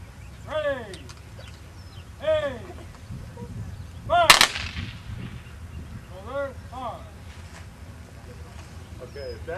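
Civil War reenactor infantry fire a rifle volley, one sharp loud crack standing out amid shouted commands and other voices outdoors.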